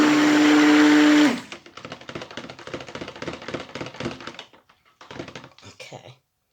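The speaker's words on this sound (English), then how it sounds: "Just checking the blender to make sure there's no separation. I'm just going to give it another quick blast." A stick blender mixing cold process soap batter whirs loudly for about a second and stops, followed by rapid tapping and scraping clicks that fade out into silence.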